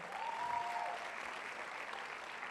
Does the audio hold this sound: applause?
yes